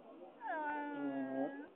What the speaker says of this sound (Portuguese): É um gato.